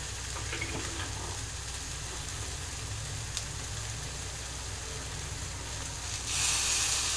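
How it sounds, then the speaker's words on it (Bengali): A masala paste of onion, cashew, raisin and coconut sizzles steadily in a pan on the stove, a close, even frying hiss that grows brighter near the end. "এবার আমি গ্যাসের ফ্লেমটা কমিয়ে দেবো একদম, দিয়ে আবারও আমি এইভাবে কষতে থাকবো"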